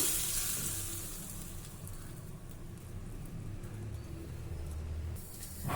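A hot tempering of asafoetida, turmeric and curry leaves poured over grated radish sets off a steady, soft sizzle that holds throughout, brightest in the first second.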